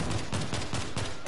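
Rapid bursts of gunfire in the video game World War Z, several rounds repeating in a steady rhythm, loud and close with no talking.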